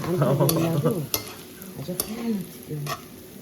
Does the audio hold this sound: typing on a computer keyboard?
no